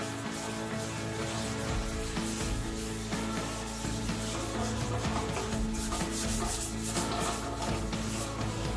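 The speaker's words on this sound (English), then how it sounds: "all we're doing is just lightly sanding" Steady, continuous wet-and-dry sandpaper sanding over a Harley-Davidson Sportster fuel tank, a rhythmic rubbing scrape, close and loud throughout, with no voices.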